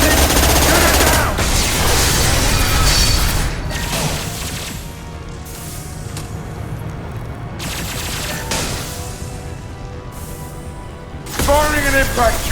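Gunfire in a modded Mass Effect 2 Legendary Edition firefight, dense continuous shooting and impacts, loud and close, with in-game voices shouting over the combat.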